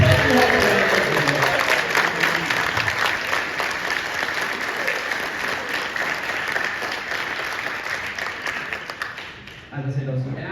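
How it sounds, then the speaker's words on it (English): Sustained audience applause at a Tottenham Hotspur VIP live screening honoring Osvaldo Ardiles, steady and full for about ten seconds before dropping off, with a voice resuming at the close. "Please can we get a round of applause for this Tottenham Hotspur"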